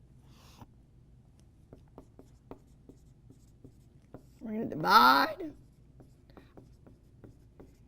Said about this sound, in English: writes everything on paper first before she ever touches a calculator